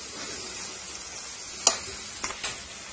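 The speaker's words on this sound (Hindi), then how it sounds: "अब ये सब उबल रहा है तो हमें इसे करीबन 10 मिनट तक" Herbal oil mixture bubbling and sizzling in a pan on the stove, a steady soft fizzing hiss with a few brief sharper crackles and clinks, close by and without talk.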